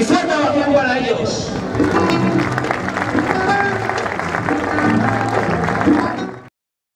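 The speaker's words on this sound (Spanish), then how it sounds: "Mucha suerte y fuerte ovación para ellos." Crowd applause fills a bullfighting arena ahead of a recortadores and forcados event, a loud, steady wash of clapping with scattered shouts that runs for several seconds before cutting off abruptly.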